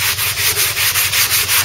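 A flexible sponge sanding block works into the awkward corners of a Ford Cortina GXL car body under restoration. The rough abrasive rasp comes up close in quick back-and-forth strokes, roughly ten even passes with no voices.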